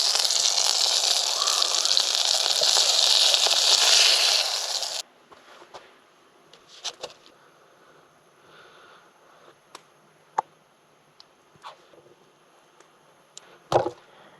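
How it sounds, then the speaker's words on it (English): Food in a pan over an outdoor campfire sizzles loudly and steadily for about five seconds, then cuts off, leaving a quiet scene with scattered faint clicks, taps and a soft thump. "we're gonna put the pan on the fire."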